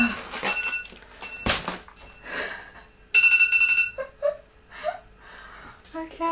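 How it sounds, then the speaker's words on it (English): A kitchen timer for a baking birthday sponge cake beeps in short bursts around the middle, with people talking and reacting nearby in a home kitchen. "That alarm making me jump."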